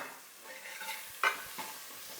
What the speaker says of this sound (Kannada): ಅದೇ ಬಾಣಲಿಗೆ ಸ್ವಲ್ಪ ಈರುಳ್ಳಿ ಹಾಕಿ ಫ್ರೈ ಮಾಡ್ಕೊತಾ ಇದ್ದೀನಿ